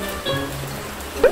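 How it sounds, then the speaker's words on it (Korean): Heavy rain pours down outdoors in strong, fat drops, a steady dense hiss with one sharper splash near the end. "갑자기 비가 와가지고 철수. 오, 빗방울이 엄청 세네."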